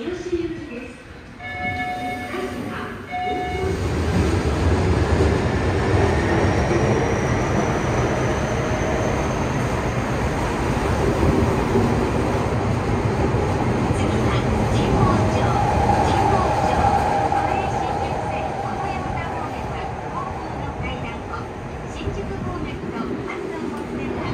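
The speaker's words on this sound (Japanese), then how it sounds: "三田線ですね日吉行きこちらに乗りたいと思います" A Toei Mita Line subway train bound for Hiyoshi rumbles steadily and loudly for a long stretch after a brief chime, with a voice speaking at the start.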